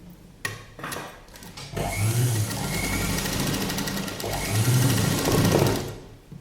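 A sewing machine stitches the belt onto a padded blouse, with a few soft clicks and then a steady, close mechanical whir that swells again near the end before stopping, with no talking.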